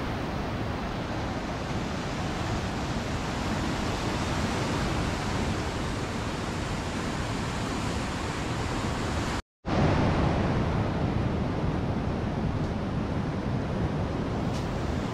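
Big ocean waves at Wediombo beach produce a constant, loud wash of surf mixed with wind rumble, broken only by a brief silent gap before the roar resumes.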